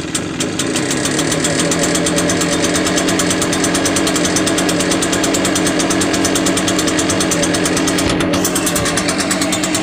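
A brand-new Echo PB-580T backpack blower engine runs cold after a pull start, a loud, steady two-stroke drone with a rapid even beat and a brief dip near the end.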